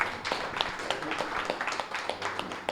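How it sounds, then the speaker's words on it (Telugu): An audience gathered for a spiritual discussion on religion claps steadily, a dense patter of many hands at moderate loudness lasting throughout, with a voice faintly present underneath. "గట్టిగా క్లాప్స్ కొడదాం"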